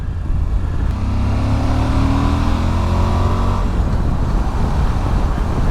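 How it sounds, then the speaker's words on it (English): A Suzuki V-Strom 1050XT motorcycle engine drones steadily with a rumbling exhaust note that rises in pitch as it accelerates, heard close amid wind and road noise. "There's a nice sound to the exhaust as well."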